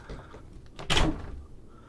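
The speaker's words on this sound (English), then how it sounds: "behind here, that is a sprung door." A sprung cabin door on a 2014 Admiral 35 superyacht swings and shuts with a single brief knock, close by in a quiet interior with faint room noise around it.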